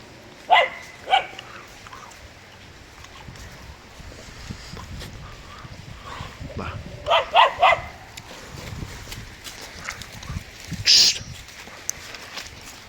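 A dog barks a few sharp times nearby beside the Mudurnu stream, with scattered barks and yips later, while people talk in the background.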